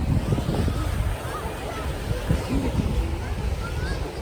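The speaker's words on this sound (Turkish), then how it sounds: "Çok güzel rüzgar esiyor" Steady wind buffeting the microphone, a constant low rumble and roar with no breaks throughout.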